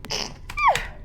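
A single short, sharp sneeze bursts out suddenly, close and fairly loud, preceded by a quick intake of breath.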